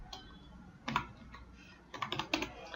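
Quick bursts of typing on a computer keyboard while entering text in Tally ERP 9, with a few isolated key clicks, then a cluster of taps near the end in a quiet room.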